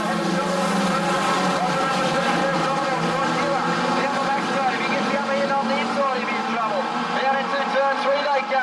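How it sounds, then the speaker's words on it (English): Street stock race cars roar around Gunnedah Speedway in a heat race, a dense, continuous engine drone held at full volume throughout, with an announcer calling the race over it. "We're racing street stockers now, fellas, not fender benders."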